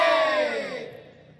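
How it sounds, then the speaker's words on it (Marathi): A large crowd of devotees shouts a victory cry to Lord Ramachandra in unison, one loud, sustained roar of many voices that gradually fades away. "सगळ्यांनी बोला, प्रभू रामचंद्र भगवान की जय"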